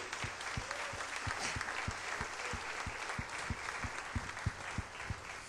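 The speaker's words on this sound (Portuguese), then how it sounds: "Bata palmas para Jesus." A church congregation claps for Jesus during a sermon, steady rhythmic hand claps in a regular beat over a broad wash of crowd applause, moderately loud and sustained.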